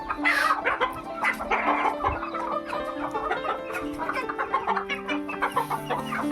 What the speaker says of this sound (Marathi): या कोंबड्या वरती जाऊन बसलेल्या असतात